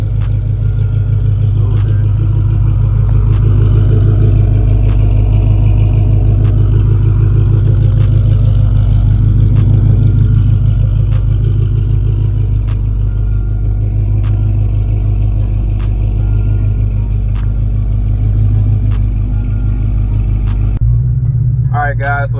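A first-generation Chrysler 300 engine idles with a steady low rumble, a faint rhythmic clatter on top, and near the end the engine note shifts as it pulls off.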